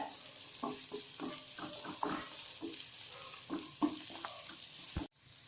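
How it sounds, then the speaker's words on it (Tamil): Curry leaves fry in oil for a South Indian potato fry, with a spatula stirring in rhythmic scraping strokes over a low sizzle. The stirring ends with a firm knock and sudden quiet, and no one speaks. "இது நல்லா ப்ரௌனிஷ் ஆகிற வரைக்கும் ஃப்ரை பண்ணுங்க."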